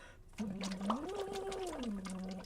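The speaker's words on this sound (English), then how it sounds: "I'm gonna use the big straw so you hear the bubbles more" Bubbles blown through a big straw in water during a singing practice slide from chest voice to head voice, a steady bubbling under a sung tone that glides up and back down, close and fairly loud for about two seconds.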